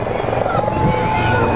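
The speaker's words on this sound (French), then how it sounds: "The helicopter is arriving from the southwest corner of the field." A helicopter's rotor drones steadily under a voice speaking over it as it arrives and lands on a field in Rimouski, with a low continuous rumble.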